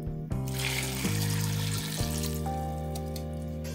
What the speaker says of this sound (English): Then we're going to add our water.